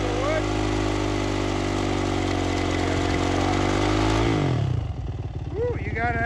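A Yamaha YZF 450 motorcycle doing a burnout with its rear tire spinning on wood, engine roaring loud and close at high revs, then dropping off toward idle near the end.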